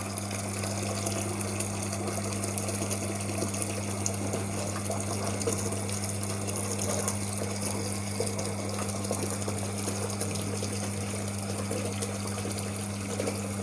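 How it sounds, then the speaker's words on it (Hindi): An automatic electric water pump hums steadily and loudly as it fills a tank, with a constant rushing, gushing flow of water layered over the motor drone and no talk. "अब यहाँ पे जो हमारा पंप है इसके ऑन होने के बाद हमारा जो टैंक है वो फिल होना स्टार्ट होगा।"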